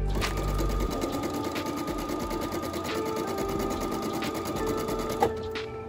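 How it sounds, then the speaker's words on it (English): A sewing machine stitches back and forth across a hole in black fabric, a close, even whirring hum with a rapid needle rhythm and faint periodic clicks as the direction changes. "just keep going back and forth until you have sewn it closed"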